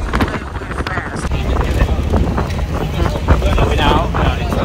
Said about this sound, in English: Now it's a windy day. Well, windy because we're moving